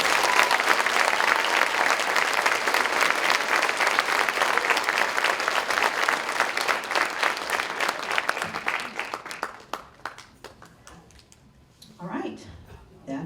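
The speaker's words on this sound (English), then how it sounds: "now if you want to give these kiddos a round of applause" An audience applauds a children's choir at a school choir concert, steady clapping from a sizable crowd that gradually thins and fades out, followed by a voice speaking.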